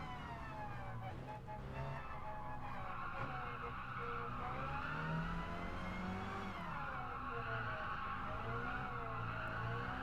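A Mini Cooper S race car in Gran Turismo Sport drones steadily throughout, its engine note rising and falling through gear changes, with a brief tyre-skid squeal mixed into the continuous racing sound.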